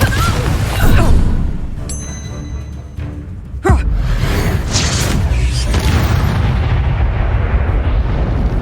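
A Bombarda blast spell detonates in Hogwarts Legacy combat, a sharp loud explosive boom midway followed by rumbling, within a dense wash of battle noise and earlier impacts.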